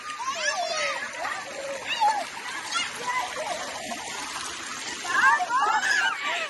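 Water splashing and sloshing as people bathe at a farm house, with steady churning through the whole stretch, excited voices and shrieks mixed in, and a livelier burst of splashing near the end.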